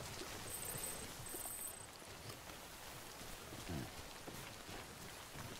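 Soft, steady rainfall in the video game Death Stranding, a constant faint hiss of falling rain with no other clear sounds.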